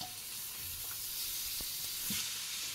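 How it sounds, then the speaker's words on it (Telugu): Grated carrot frying in a pan for carrot egg bhurji, a soft continuous sizzle with occasional scrapes and taps as it is stirred, quiet and close with no talk. "బాగా ఫ్రై అవ్వనిద్దాము."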